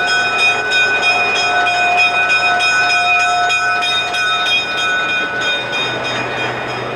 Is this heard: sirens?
no